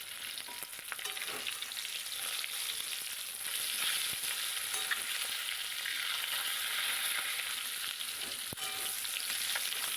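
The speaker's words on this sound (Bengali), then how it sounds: "এদিকে আমার মাছগুলো সব ভাজা হয়ে গেছে" Fish frying in hot oil in a wok produce a continuous, moderately quiet hiss with fine crackling and occasional small pops, steady from start to finish.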